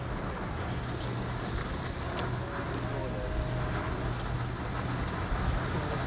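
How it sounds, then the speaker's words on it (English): Steady wind blows and buffets the microphone on a boat deck off the Florida Gulf Coast at sunset, with a faint low engine hum underneath. "It's like windy."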